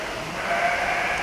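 Sheep bleating at a stock dog demonstration at a pioneer days event, a steady mid-distance bleat rising slightly midway through a short, continuous stretch with no talk.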